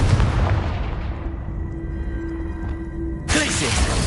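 A Confringo blasting spell explodes in Hogwarts Legacy with a loud, booming burst that rolls off into a sustained tonal hum before a second heavy blast hits near the end, under game noise and talk.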